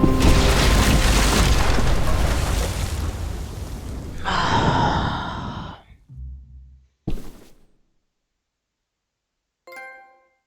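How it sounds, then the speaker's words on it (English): Bomb exploding in The Walking Dead video game: a loud, long roaring blast that rumbles and fades, followed by a few short crashing thuds and a faint ringing tail. "Shit, the bomb!"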